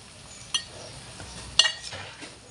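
A spoon stirs chopped cabbage into hot oil with onions in a pan, making a couple of distinct scrapes and clinks over a faint, quiet sizzle.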